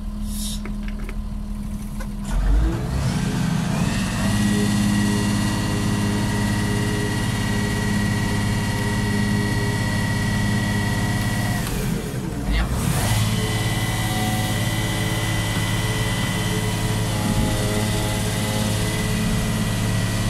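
A tractor in slow gear at about 2 km/h spreads pig slurry over a sorghum field, with a steady loud engine drone and low rumble running throughout and a brief dip near the middle.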